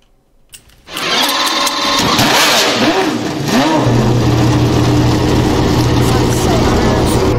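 A car engine starts with a brief crank and catches into a loud, steady idle with a couple of revs, close by, while people talk faintly over it.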